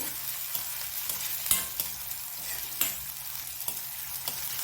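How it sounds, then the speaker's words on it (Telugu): Onions with cumin seeds frying and being stirred in a pan for palak paneer, a close, continuous sizzle broken by irregular scraping knocks of the spoon against the pan, with no voices. "కొంచెం జీలకర్ర వేసుకొని చక్కగా ఈ ఆనియన్స్ గోల్డెన్ బ్రౌన్ వచ్చేంత వరకు వేపించుకుందాము"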